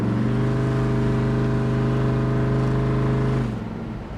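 A 1969 Chevrolet Impala convertible rolls along with a steady, loud engine drone, then slows under braking near the end as the tone drops and fades slightly; no voices.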